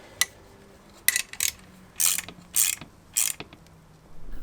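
Hand ratchet tightening the bolts of a lift block onto a top hat while installing a 2-inch lift kit on a Subaru: a few close, loud bursts of rapid clicking, separated by short pauses.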